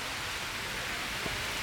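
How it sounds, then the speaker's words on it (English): Steady rain during a severe thunderstorm warning falls as an unbroken hiss, even and moderately quiet, with no distinct drops or thunder standing out. "you can see, ladies and gentlemen, the rain"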